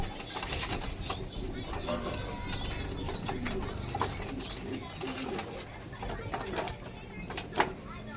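Pigeons coo softly in a coop under steady background noise, with someone talking over them throughout.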